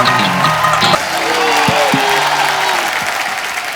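Studio audience applause on a Hindi comedy talk show as musical guests are welcomed, loud continuous clapping layered with stage music and brief cheering, gradually easing toward the end.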